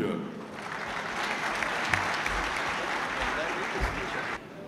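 An indoor audience at a Çankırı federation gathering applauds steadily, a dense continuous clatter of clapping lasting several seconds with a few louder claps standing out.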